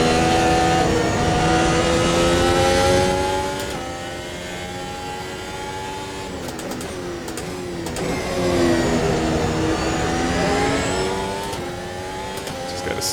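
An F1 car engine in Automobilista 2 on the new Catalunya layout, racing hard with a loud continuous high-pitched whine. The revs rise and fall through gear changes and corners, with no talking over it.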